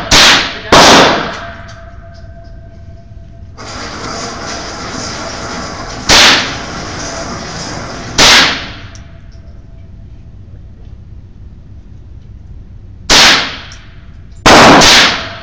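Six sharp, loud cracks from a pink-camo Remington 597 rifle fired outdoors, spaced unevenly with quiet stretches and a faint steady hiss between shots.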